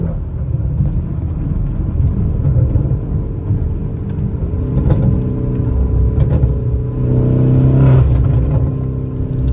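A Lamborghini Urus SUV's engine rumbles loudly as it accelerates while driving, building to a stronger revving surge near the end, with no talk over it.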